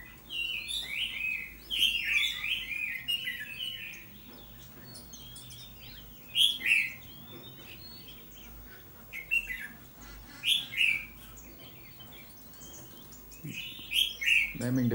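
A caged red-whiskered bulbul sings indoors in short bright bursts of chirpy phrases, repeated every few seconds with quiet gaps between, clear and moderately close, with light rain outside.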